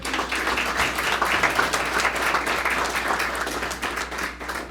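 Audience applause at a HOPE Commission graduation ceremony, a short burst of many hands clapping together, fairly loud and steady for a few seconds before softening.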